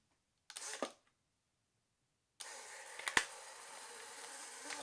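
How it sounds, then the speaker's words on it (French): A Polaroid instant camera gives a short, close mechanical click-whir, then after a pause a steady motorized buzz runs for several seconds as the photo is ejected, heard alone without talk. "La photo sort directement de l'appareil."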